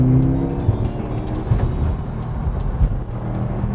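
A 2015 Subaru STI driven hard through a curve: a loud, close engine roar and road noise with faint tire hiss, continuous for a few seconds without talk.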